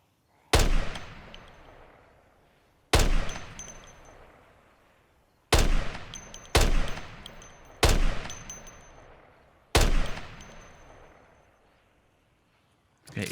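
A new pistol test-fired in Project Zomboid, six loud separate shots spaced one to two seconds apart, each a sharp crack with a ringing decaying tail, heard alone without talking.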